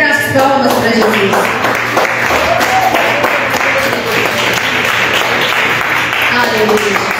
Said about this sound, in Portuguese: Os irmãos podem se assentar e bater as palmas para Jesus.